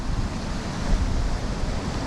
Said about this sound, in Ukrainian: Там уже великий гук водоспаду.